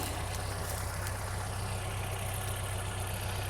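A tractor engine idles steadily in a field where virgin ground is being worked, its radiator partly clogged and running hot, a continuous low, even rumble with no talk.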